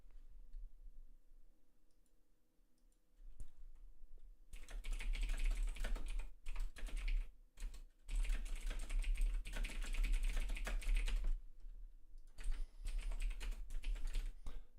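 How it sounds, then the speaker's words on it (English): Fast typing on a computer keyboard during Eve Online play, a dense rapid clatter of keys close to the mic that starts after a few quiet seconds and runs with brief pauses, with no talk. "I have voice activation, so you might hear how fast my typing is."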